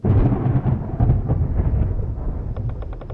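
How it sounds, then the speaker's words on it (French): A thunderstorm as a loud, steady low rumble of thunder and heavy weather that fills all three seconds, with a faint repeating high chirp joining near the end and no talk. "la tempête s'améliore pas, c'est parfait pour l'atmosphère"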